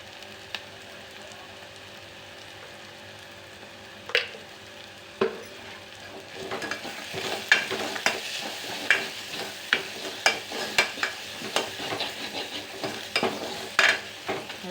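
A spoon stirs and scrapes through masala frying in a pan with coriander-cumin powder, turmeric and onion-garlic spice mix, soft sizzling beneath a series of distinct clinks and scrapes that grow more frequent.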